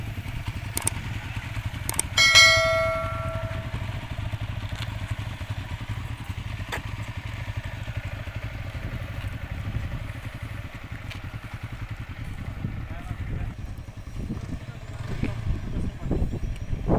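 Suzuki Raider FI 150 underbone and Yamaha MT15 naked bike at a drag race, their engines a steady low drone throughout with a brief clattering burst early on and voices in the background.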